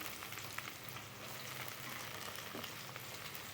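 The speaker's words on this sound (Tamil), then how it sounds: "வெங்காயம் கொஞ்சம் வதங்கட்டும் இப்போது ஒரு தக்காளி கட் பண்ணி வச்சுருக்கேன் அதையும் இதில் சேர்த்துக்குவோம்" Onion and tomato sauté quietly in a pan for a mixed three-vegetable poriyal, a soft, even sizzle with faint crackles throughout and no speech.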